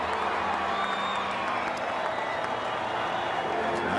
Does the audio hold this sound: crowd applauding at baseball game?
yes